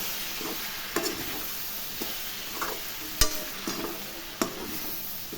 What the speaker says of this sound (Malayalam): അപ്പം അതൊന്ന് നന്നായി ഇളക്കി കൊടുക്കാം